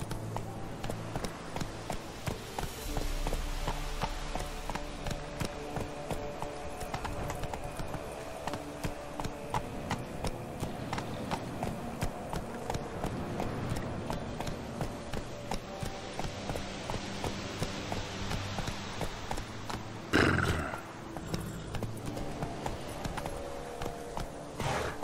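The horse Roach gallops in The Witcher 3 Wild Hunt, a steady rhythmic clip-clop of hooves over ambient game sound, with a louder burst near the end.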